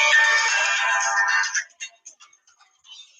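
A phone's ringtone plays loudly and steadily for about a second and a half, then cuts off, leaving a few faint clicks and short scattered sounds behind it.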